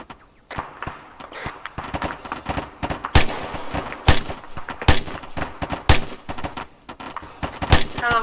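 Gunfire in an Arma 3 battle: a steady spread of rifle and machine-gun shots, some sharp and close, others more distant, firing irregularly throughout.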